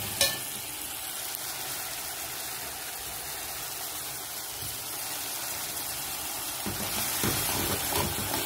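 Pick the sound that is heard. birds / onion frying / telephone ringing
onion frying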